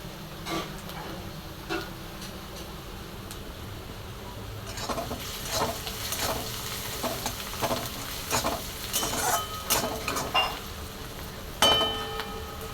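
Onions browning in oil while methi bhaji is cooked, with steady sizzling and scattered clicks and scrapes of a spoon stirring in the pan, growing busier toward the end.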